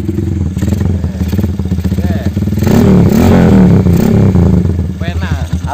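A modified Honda Tiger motorcycle revs up close by, its engine rising to a loud, rough roar and then falling back, with someone talking over it.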